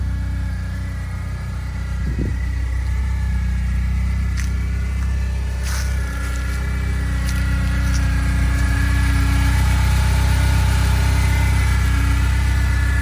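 A BMW E30 slick top with a freshly rebuilt M42 engine runs steadily, a smooth mid-pitched idle with a faint hum throughout and no voices.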